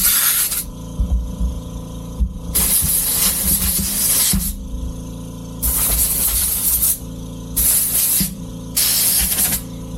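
WD-40 aerosol sprayed onto a Traxxas Maxx RC car while it is being cleaned after a bash in brush and snow: five close, loud hissing bursts of uneven length separated by short quiet gaps.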